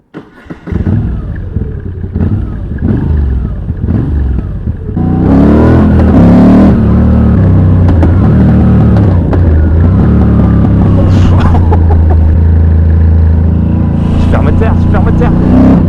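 A car engine cranks and catches, then runs loud and close, rising and falling through several revs with a steady rumble, while someone talks over it.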